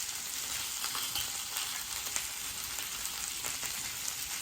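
Onions and peppers sizzle steadily in a hot pan over browning sausages, a dense, constant frying hiss with occasional small pops and spatters, close up and without talk.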